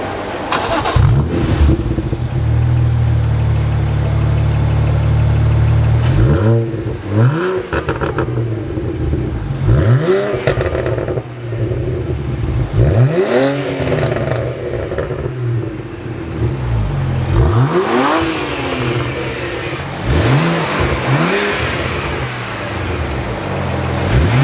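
A tuned Nissan R34 GT-R engine in Hong Kong, a steady loud idle followed by repeated sharp revs rising and falling, heard close and alone.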